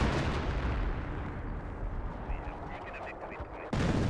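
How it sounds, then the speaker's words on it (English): An artillery barrage in Company of Heroes rumbles heavily and continuously, with dense low booms layered over one another and a loud fresh blast near the end. "So he's starting to barrage the artillery at the base sector, which makes sense."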